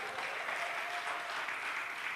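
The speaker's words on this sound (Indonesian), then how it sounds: "Yang percaya berikan sorak-sorai yang paling dahsyat buat Yesus kita" A church congregation at a student leaders' retreat cheers and claps for Jesus, a dense, steady wash of applause heard from a moderate distance throughout.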